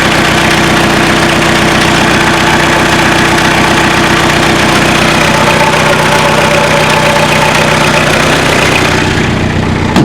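A car engine idles loudly and steadily up close, a constant low rumbling chug that fades slightly at the very end.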